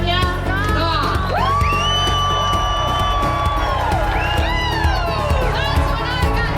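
A large rally crowd in Canada cheers and whoops loudly and continuously, with shouts and high-pitched yells rising over a dense roar of many voices.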